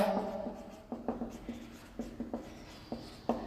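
Chalk or marker tapping and scratching on a board during an electrochemistry lecture, a string of short, light strokes at an irregular pace, close by, with a faint voice in the background.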